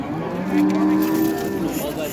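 A small cow at a cattle market in Baliqchi gives a loud, drawn-out moo that swells and then fades, close by and clear, with faint market noise behind it.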